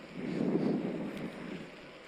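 Steady wind rushes and buffets against the microphone during an evening ride on a Specialized Turbo Vado SL electric bike, a low rumbling roar that swells briefly and then eases, with no voices.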